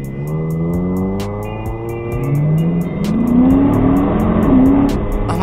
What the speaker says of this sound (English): You just hear this stupid car.